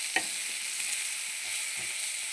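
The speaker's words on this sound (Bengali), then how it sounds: "এটা ভাজা হতে থাকে, কুমড়োটা অনেকটাই ভাজা হয়ে গেছে।" Pumpkin pieces fry in a pan, giving off a soft, steady sizzle with a few light clinks of stirring, quiet and close with no talking.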